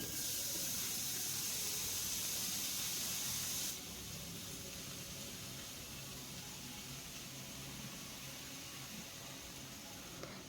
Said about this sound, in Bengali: কাঁকরোলটাকে এখন খুব ভালো করে ভেজে নেব